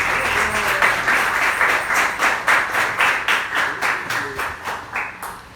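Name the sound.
applause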